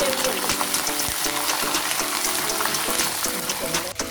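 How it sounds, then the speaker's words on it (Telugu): Peanuts fry in hot oil with curry leaves for a bitter gourd dish, giving a steady, dense crackle and sizzle throughout, with faint tonal sounds in the background. "నూనె వేడిచ్చిన తర్వాత అందులో కాస్త పల్లీలు వేసుకోవాలి"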